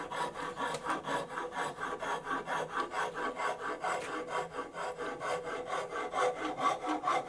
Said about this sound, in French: je vais continuer avec le meulage là